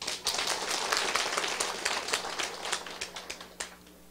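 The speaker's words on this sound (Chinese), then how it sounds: "尤先生，甲拍手一下。" A small audience claps at an indoor lecture session, a scattered patter of hand claps running several seconds and thinning toward the end, fairly faint and without talk over it.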